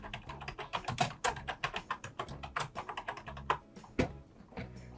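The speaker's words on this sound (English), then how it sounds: "We're also going to type in his birth year, which is 1876." A name is typed on a computer keyboard into a genealogy search form, an uneven run of close, clicky keystrokes with a few louder taps and no voices.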